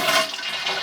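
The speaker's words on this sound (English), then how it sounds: "So give it a quick flush and it should not fill up." A toilet flushing to empty its tank, a loud, close rush of swirling water lasting about a second with no talk.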